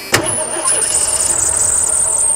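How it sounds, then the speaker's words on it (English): An engine cranked over on a project vehicle, a sharp burst at the start followed by a continuous whirring with a high whine, loud and close. "try cranking."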